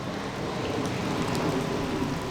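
Steady rain falls beside the high, muddy Rio Grande in the Southwest, a dense continuous hiss that stays even and close throughout with no voices.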